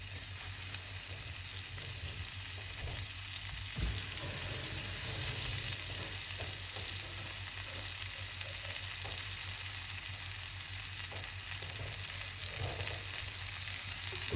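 Steak sizzles steadily in a pan while being basted with garlic butter, a continuous close frying hiss with occasional spoon scrapes and spatters, no talking.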